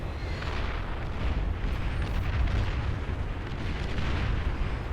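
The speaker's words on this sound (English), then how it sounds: "they start getting peppered by that long-range artillery, as well as the missiles from 4 arbiters now of Sash" Dense, continuous barrage of long-range artillery and missile fire in the real-time strategy game Beyond All Reason, a steady rumbling wash of overlapping booms and bursts with no clear gaps, loud and sustained.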